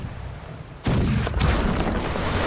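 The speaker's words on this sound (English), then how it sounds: "this cannon just got fucking blown to smithereens" A cannon blown up in the musket-era naval battle game Holdfast, a sudden loud explosive boom that cuts into low ambience and rumbles on with crackling debris.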